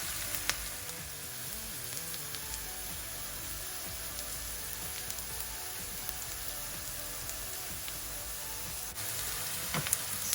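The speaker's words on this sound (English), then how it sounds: "while the onions are cooking" Onions frying in a pan, a steady soft sizzle and crackle running evenly throughout with no talking.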